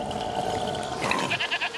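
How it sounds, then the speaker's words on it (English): A goat named Lucinda bleats in the video game A Plague Tale: Requiem, a nasal, wavering cry close by, rising into a sharper pulsing bleat toward the end. "You're a nice goat, Lucinda."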